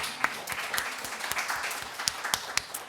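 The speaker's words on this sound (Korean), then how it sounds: "우리 하나님께 영광의 박수 올려드리겠습니다." A church congregation at a Sunday afternoon prayer meeting claps together, a moderately loud flurry of many hands with distinct sharp claps popping out of the steady patter.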